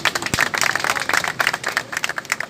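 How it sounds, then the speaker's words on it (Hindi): Scattered, uneven hand clapping from a rally crowd welcoming BSP Lok Sabha candidate Rajveer Singh, fairly faint and irregular over a couple of seconds with no talk. "आप जोरदार तालियों से उनका स्वागत करें।"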